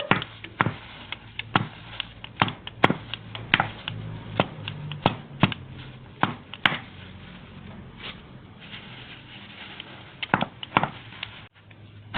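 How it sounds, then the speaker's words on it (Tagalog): Marapait leaves being chopped finely with a blade, giving a steady series of sharp, close knocks on a board at an irregular rhythm, with no talk over them. "Tutuloy natin ang pagtatadtad."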